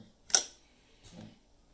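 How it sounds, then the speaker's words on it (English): A Kodak Brownie No. 2 box camera has its shutter tripped, giving a sharp, close mechanical click followed by a softer second snap about a second later, in a quiet room. "And then we're going to trip the shutter."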